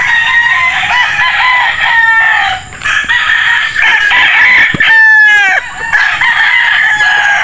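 Several bantam roosters crow in overlapping, strained calls while bantam hens cluck continuously underneath, loud and close.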